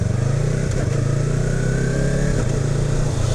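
A Yamaha R3 motorcycle fitted with an Annitori Pro quickshifter accelerates gently from a red light, its engine note droning loud and close with a quick dip and recovery as it shifts gears.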